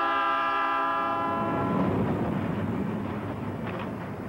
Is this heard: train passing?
yes